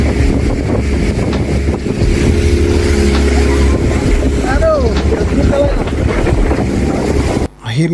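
Speedboat engine drones steadily beneath rushing wind and water on a ride out to the outer islands under overcast skies, loud and continuous, with a few faint whistling tones and a brief dropout near the end.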